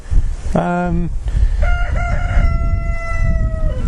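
A rooster crows loudly with a stretched harmonic call, followed by more crowing and clucking from chickens nearby over a busy farmyard background.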